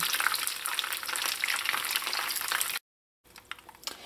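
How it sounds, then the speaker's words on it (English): Chicken pieces fry in hot oil with a busy, crackling sizzle, close and steady for several seconds. The sound drops to silence briefly, then resumes more quietly with scattered pops. "Now I'm going to continue frying the rest of chicken pieces"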